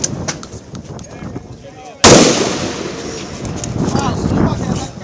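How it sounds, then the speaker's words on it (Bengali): A loud, sharp gunshot-like blast strikes about two seconds in, followed by a sustained noisy rumble and scattered cracks, during a police shooting at students on a street in Chankharpul, Dhaka, on 5 August. "ম্যাগজিনের পর ম্যাগজিনের গুলি চলে শিক্ষার্থীদের উপর"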